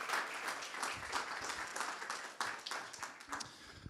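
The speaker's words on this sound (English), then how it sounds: "Give another round of applause to Patrik and Lauri," Audience applause at a cybersecurity meetup, fairly faint, sustained clapping from a crowd in a room, even and continuous without voices.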